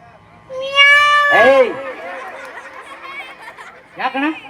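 A person mimics a cat with a drawn-out, whiny meow, then lets out a shorter meow-like call near the end.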